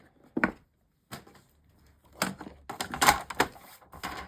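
Scissors snip through decorative G45 patterned paper being trimmed for a recipe box, a few short, close crisp cuts with small rustles of paper between them.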